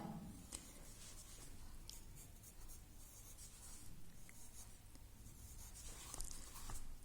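Pencil writing music notes by hand on staff paper during a sixth-grade solfège lesson, a steady soft scratching with small taps, close and continuous, with no talking over it.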